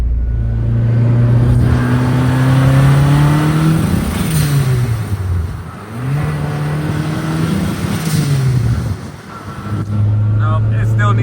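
BMW E30 car engine revved in second gear, with rising and falling harmonic sweeps as it pulls through a few rips, loud and close, with a person talking over it.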